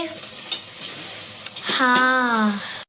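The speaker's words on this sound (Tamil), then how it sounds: "நம்ம இஞ்சி பூண்டு பேஸ்ட்டு அந்த பச்சை வாசனை போகிற வரைக்கும் கொஞ்சம் 5 மினிட்ஸ் குக் ஆகட்டும்." Ginger garlic paste frying in a pan gives a steady close sizzle with a few spoon scrapes and clinks, and a person talks over it in the second half before it cuts off.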